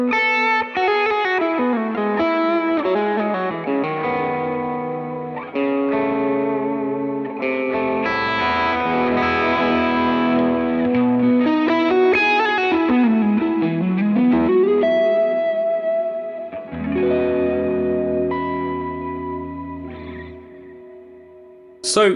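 Electric guitar played on the bridge pickup through a Line 6 Pod Go with the high cut lowered, giving a saturated, effects-laden tone with chorus and echo, a continuous loud phrase of notes and chords that fades before a final sharp attack.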